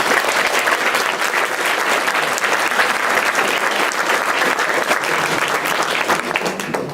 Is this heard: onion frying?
no